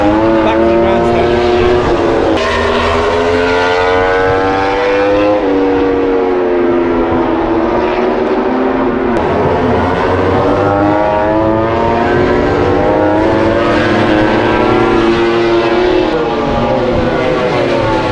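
MotoGP racing motorcycles howl past at Lusail circuit in Qatar, loud high-revving engines rising and falling in overlapping waves as bikes pass close by, with talk underneath.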